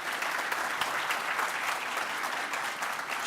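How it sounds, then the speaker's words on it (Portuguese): Audience applause at a Zabbix technology conference in Latin America, a dense, steady wash of many hands clapping that holds evenly throughout at moderate loudness, with no speech over it. "Uma salva de palmas, gente."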